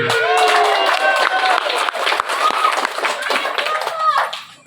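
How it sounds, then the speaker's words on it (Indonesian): A stand-up comedy audience at a campus show in Indonesia cheers and claps, a loud crowd of overlapping voices with scattered claps, fading toward the end. "Tepuk tangan dulu."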